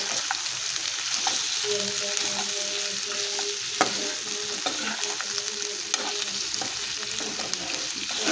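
Chicken curry frying in a pan while being stirred, a steady broad sizzle with scattered scrapes and clinks of the spoon against the pan, close and continuous throughout.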